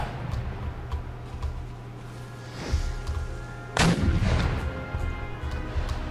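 Artillery in Empire Total War booms in a loud volley, one big report followed by a rumbling cluster of further shots, with battlefield noise running underneath.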